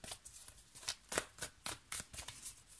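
Tarot cards are shuffled by hand for a card reading, making about nine crisp, close riffling bursts in a steady rhythm, with nothing else heard.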